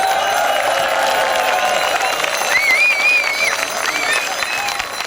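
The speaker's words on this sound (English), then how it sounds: "Give a huge cheer to the POP team." A crowd at the 2014 Pedal on Parliament cycling rally in Scotland applauds and cheers for the organising team, with steady loud clapping and a few high whoops over the top.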